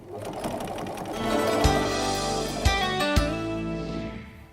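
A sewing machine stitches a moccasin, its motor whirring in runs with rising and falling speed and a few sharp mechanical knocks, close and fairly loud, with no talk.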